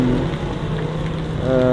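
Rain falls on a damaged main road between Gowa and Malino in South Sulawesi, a steady loud hiss on wet asphalt, while traffic passes nearby and an engine hum rises toward the end.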